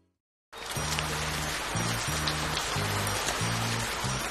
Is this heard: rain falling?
yes